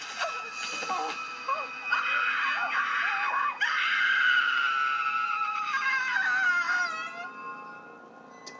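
A woman in a 1999 slasher film lets out a long, loud, sustained scream that wavers and slowly fades over several seconds, close and dominant, with faint film sound beneath.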